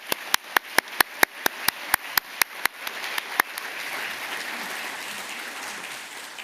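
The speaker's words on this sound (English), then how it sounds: "Let's have a round of applause for that historic announcement." An audience applauds a historic ocean climate announcement, opening with a string of sharp, evenly spaced claps ringing out near and loud, then settling into a softer, steady wash of clapping that carries on alone.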